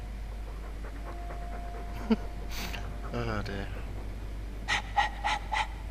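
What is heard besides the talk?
dog panting from the video game Dragon Age 2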